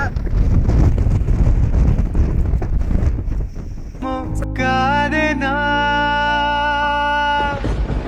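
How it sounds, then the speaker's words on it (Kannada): Strong wind buffets the microphone with a rough, low rumble for several seconds before music with sustained tones takes over. "ಭಯಂಕರ ಗಾಳಿ"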